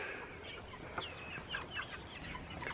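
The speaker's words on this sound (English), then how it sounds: "We have a lot of birds in here" Chickens on a farmstead cluck softly in a few short, scattered calls over a faint, steady outdoor background.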